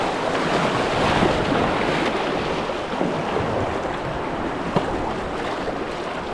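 Rough, turbulent water churns and slaps around a 16-foot touring kayak, a constant loud wash of surf heavily mixed with wind buffeting the microphone.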